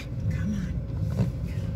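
Cars roll past on a snowy street, a low rumbling engine swell that rises and eases as the vehicles pass nearby, steady and moderately loud throughout.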